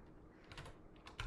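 Fingers tap out a quick, uneven run of keystrokes on a computer keyboard, a handful of light clicks close by in a quiet room, the last key struck harder.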